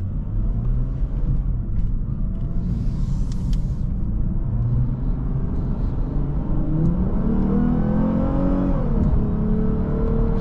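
A 2021 Lexus IS 350 F Sport sedan engine hums and rumbles steadily while driving, with a low drone and a gradual rise in pitch as it accelerates near the end.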